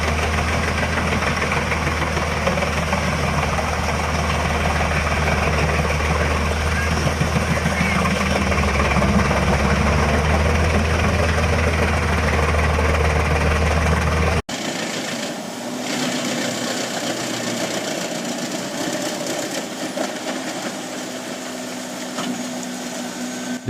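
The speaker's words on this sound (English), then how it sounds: "The Jinshem 700D wood chipper stands out with its powerful design, specially built to handle large tree trunks." A Jinshem 700D wood chipper built for large tree trunks runs with a loud, continuous diesel engine drone. Partway through, the sound cuts abruptly to a different, thinner mechanical grinding.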